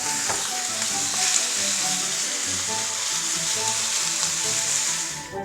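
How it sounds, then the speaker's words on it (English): Ground meat browning in a skillet over medium-high heat for homemade dog food, a loud steady sizzle with crackling pops and occasional stirring, close and continuous. "I just add all of the meat into the pan over medium-high heat, and I'm just going to cook it all together until I brown the meat"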